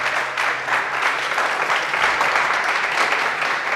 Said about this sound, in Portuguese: Então vamos aplaudir a palavra de Deus.